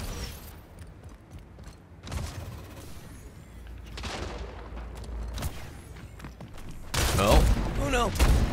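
Grenade blasts and gunfire in the arena shooter Splitgate, several loud booms and bursts spread through the clip, the heaviest cluster near the end, with a voice talking over the game.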